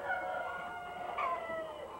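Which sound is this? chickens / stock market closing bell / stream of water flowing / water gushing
chickens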